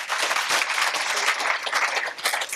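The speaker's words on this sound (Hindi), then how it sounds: "अच्छा, चलो भाई ताली बजाओ इनके लिए।" An audience at a yoga teacher-training session claps in a dense, steady burst of applause at moderate loudness, with no talk over it.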